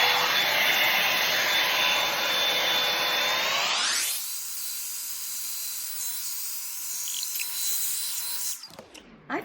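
A Revlon One Step hair dryer and volumizer runs loud and close with a steady airy roar and whine, then drops to a quieter, softer hum once switched to a lower setting before cutting off at the end.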